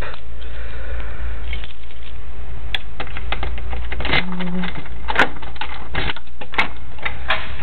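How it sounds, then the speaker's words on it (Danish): A key working the lock of a house's front door, with a run of close metallic clicks and rattles, a brief scrape and a final clack, heard over steady background noise. "Jeg har lige fået nøgler, så nu kan jeg selv låse op."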